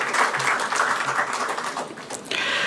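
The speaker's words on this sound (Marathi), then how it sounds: "एकदा जोरदार टाळ्या अशोक मुळे साहेबांसाठी झाला पाहिजे" A book-launch audience breaks into sustained applause for an honoured guest, dense crowd clapping filling the room for the whole stretch without a break.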